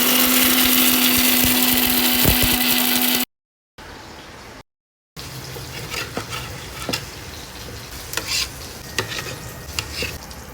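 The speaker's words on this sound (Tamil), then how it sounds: "மசாலாவை இப்போ மீன் சோறு அரைக்க போகிறோம்" A mixer grinder grinds masala for a spicy fish fry, giving a loud, steady motor whir with a humming tone for about three seconds before it cuts off. Close sizzling and stirring noises follow, with no talking.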